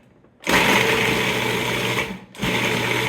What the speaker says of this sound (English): I'm just gonna give it a whiz.